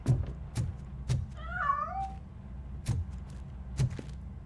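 A cat meows once in RoboCop: Rogue City while hiding inside a piano. It is a single wavering mid-length cry set among sparse, sharp knocks and thuds.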